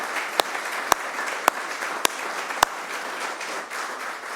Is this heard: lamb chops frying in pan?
no